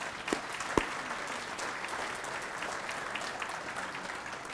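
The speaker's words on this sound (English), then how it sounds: "Give these guys a round of applause." An audience at a poker main-event welcome gives steady applause, a dense, even wash of many hands clapping throughout, with a couple of sharper claps near the start.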